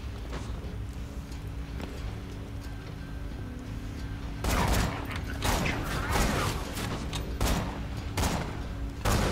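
Dual shotguns firing in Borderlands 2, a quiet stretch with mechanical clicks giving way to several loud, booming blasts in quick succession, each with a rough, lingering tail.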